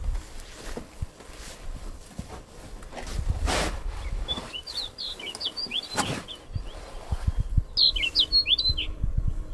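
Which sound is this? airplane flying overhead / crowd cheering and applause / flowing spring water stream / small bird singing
small bird singing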